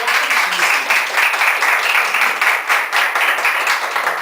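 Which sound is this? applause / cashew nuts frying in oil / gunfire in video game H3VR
applause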